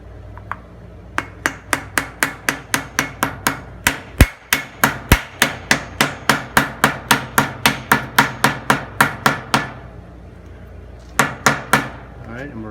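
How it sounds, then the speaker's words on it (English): A rubber mallet tapping a part back into place during maintenance on a Ferris IS700 mower: a steady rapid series of about thirty sharp, close knocks, a short pause, then a few more. "we're just gonna take a rubber mallet and pop that back on."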